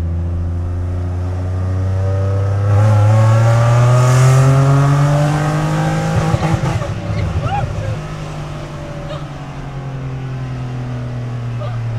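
A car engine roars and revs loudly and close, with rising and falling pitch sweeps, a peak in the middle and a sustained drone as it settles. Voices talk faintly underneath.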